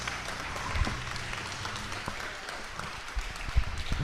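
Crowd at a Britain's Strongest Man under-80kg strongman competition applauding and cheering, a steady wash of clapping with a few louder bursts.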